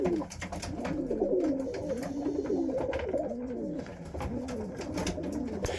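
Pigeons cooing in a loft, repeated rolling coos overlapping from several birds close by, steady and continuous with faint background rustle.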